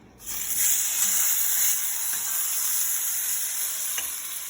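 A chuck roast searing in a hot pan, a loud, close, continuous sizzling hiss that rises sharply at the start and holds steady throughout.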